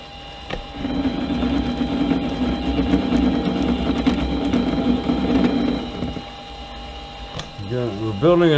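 P&W Model B mini lathe taking a spring pass while cutting a thread, producing a steady whirring mechanical hum with a faint ticking gear rhythm that runs for several seconds and then stops, followed by a brief voice.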